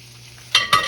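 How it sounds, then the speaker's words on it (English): Country style pork ribs frying in a skillet, old-school style: after a quiet second, two loud bursts of sizzle flare up close, like meat being placed or shifted in hot oil. "Now let me move y'all over here to the skillet. I got them frying right there."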